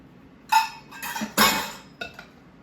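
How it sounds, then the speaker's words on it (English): Buttermilk and gluten-free banana nut muffin ingredients being mixed in a bowl, a few sharp clinks and scrapes of a utensil against the bowl in short bursts, fairly close with no talking. "we're going to mix that all together"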